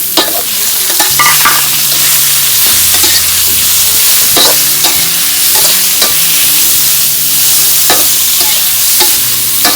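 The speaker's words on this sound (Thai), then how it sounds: "เนื้อปลาไหลใส่มาครับ" Eel meat stir-fried in a spicy Thai-style stir-fry with fish sauce, loud and close, with a constant hiss and repeated metallic scrapes and knocks of the spatula against the pan.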